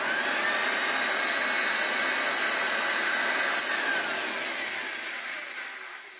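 A Hoover Junior 1334 upright vacuum cleaner, fitted with new bearings, pulley and belt spindle, whines loud and close, then gradually winds down after a brief click.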